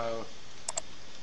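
Two quick, faint mouse clicks sound close together in a quiet room while working in software, following a brief trailing bit of a man's speech.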